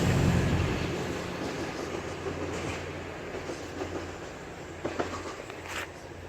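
Class 222 diesel multiple unit pulling away from Leicester station, a steady low rumble of engine and wheels on rail with faint clicks and rattles, moderately loud and fairly close, no talk.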